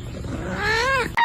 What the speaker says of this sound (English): Close up of the cat yawning